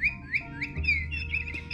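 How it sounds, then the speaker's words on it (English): Rapid, high electronic chirps and tweets from a cat toy repeat close by, like a small bird call, with a faint hum underneath. "And then this one makes a chirping sound."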